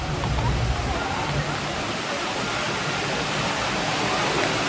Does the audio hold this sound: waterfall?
yes